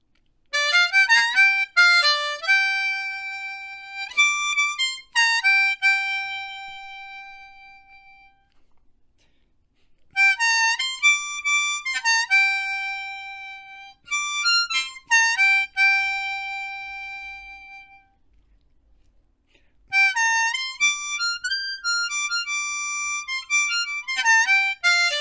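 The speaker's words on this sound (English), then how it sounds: "all of a sudden you've got a full blues solo that you can play in the upper register on the harmonica." Harmonica blues solo in second position, played high in the upper register: bright, reedy phrases of bending and sliding notes come in loud bursts with short pauses between them, heard alone with no talking.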